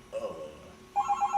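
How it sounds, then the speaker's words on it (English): A telephone rings with an incoming call during a casual podcast recording, a brief tone at first, then several quick repeated electronic pulses toward the end, with faint talk in the background. "We're getting a phone call."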